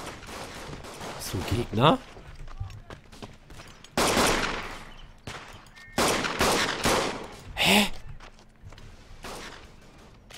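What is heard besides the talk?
gunfire in the video game Verdun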